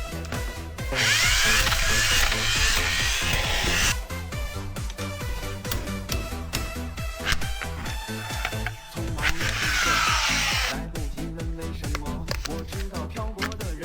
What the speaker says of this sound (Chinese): 那螺丝就得这么上紧来